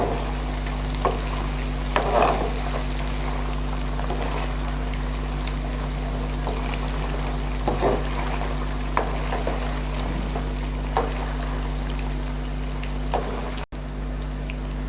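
Koftas deep-frying in hot oil give a steady low crackle and sizzle, with scattered soft pops over a constant hum across the whole stretch.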